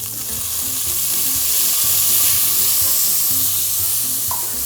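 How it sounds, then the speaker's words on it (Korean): Soy sauce sizzles and fries with pork in oil in a pot, a loud continuous crackling hiss with faint stirring scrapes and no talk. "간장을 기름에 넣어서 간장 튀기면서"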